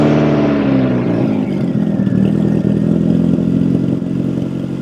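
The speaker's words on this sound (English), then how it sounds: "I'm actually going to start the car for you because it sounds much different now" A Honda Civic EK engine with a damaged, eBay-style exhaust turns over and settles into a loud, rough, rattly idle, its exhaust note harsh and uneven throughout.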